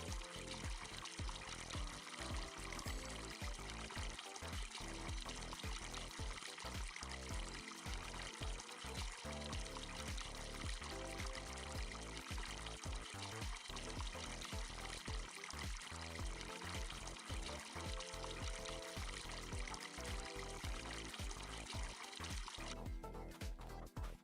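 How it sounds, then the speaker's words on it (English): A garden hose sprays water over small garden plots in Farming Simulator 25, a steady, dense hiss of pouring and splashing that runs unbroken at a constant level, faint and alone with no talk. "Let's water our garden."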